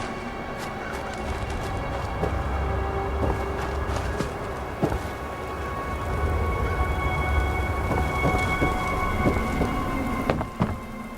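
A thunderstorm in the Fallout London game: steady heavy rain hisses throughout while low thunder rumbles underneath, with scattered sharp drops and ticks and a steady tonal hum in the background.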